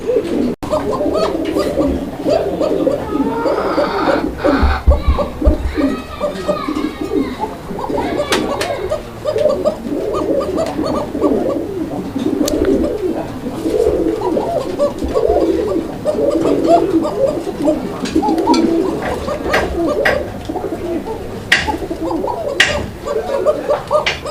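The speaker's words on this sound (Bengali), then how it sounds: "এখানে চমৎকার আরও এক জোড়া কবুতর এটা কোকা কবুতর একটা জোড়া" Pigeons, including a pair of fancy pigeons at a pigeon sale, cooing repeatedly in low rolling calls close by, with someone speaking intermittently over the birds and some background clatter.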